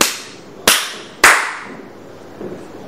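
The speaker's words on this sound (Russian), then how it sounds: "Хлопнуть?" Sharp hand claps for sound sync in an office, two loud close slaps with quick decaying ring, followed by a faint softer tap.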